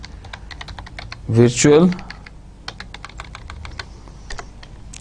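A computer keyboard clatters with quick, crisp key taps as a keyword is typed into C++ code. Someone briefly speaks over the typing, which then carries on alone.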